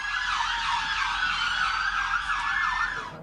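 Ambulance and police car sirens outside the Manchester Arena after an attack, loud warbling wails rising and falling continuously over a low traffic hum, with no talking.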